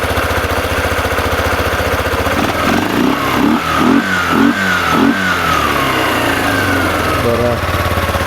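An ATV engine, recently fitted with a new spark plug after firing trouble, idles loudly and then revs in a quick series of about five sharp throttle blips before settling back to a steady idle.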